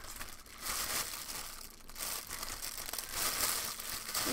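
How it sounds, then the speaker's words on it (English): Plastic packaging crinkles and rustles in bursts while a mail-order haul is being unpacked, close and fairly quiet, with no talking. "sorry for the rustling."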